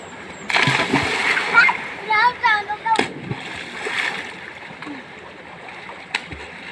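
Children jump and splash in a stream, with bursts of water splatter and sloshing between excited shouts and chatter, close by and lively for several seconds.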